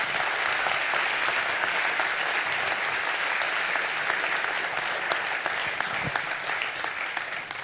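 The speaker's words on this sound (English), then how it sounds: "You can tell by the applause what people thought of that." Sustained audience applause after a conference talk on learning and education, dense and even clapping from a large hall that fades slightly toward the end.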